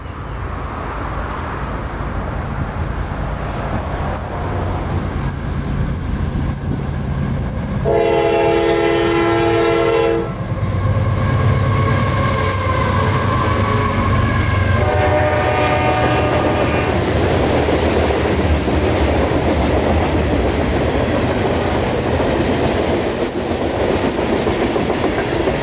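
A freight train rumbles past on the S-Line near Dade City with steady wheel clatter and sounds two distinct horn blasts, the second coming several seconds after the first, over the continuing rolling noise.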